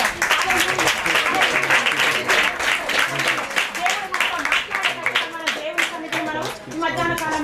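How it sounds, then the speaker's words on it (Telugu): A church congregation in Andhra Pradesh claps loudly and steadily in praise, a dense, continuous roar of many hands with voices mixed in throughout. "మనందరం గట్టిగా చప్పట్లు కొట్టి దేవుని స్తుతిద్దాం"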